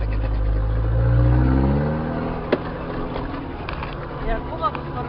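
Suzuki Samurai engine revving up, a low rising drone that swells and then settles back to a rough idle, close by, with people talking over it.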